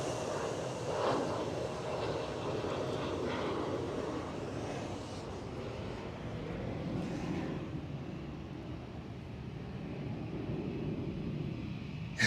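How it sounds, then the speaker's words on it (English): An Embraer E175 jet taking off at Amsterdam Schiphol produces a broad, distant engine roar. A brief surge near the start settles into a sustained rumble that slowly fades toward the end. "E175 departure."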